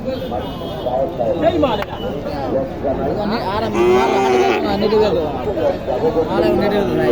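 Sahiwal cattle at a busy village livestock market in Naogaon, with loud, close lowing and moos rising over a steady babble of crowd chatter and people talking nearby.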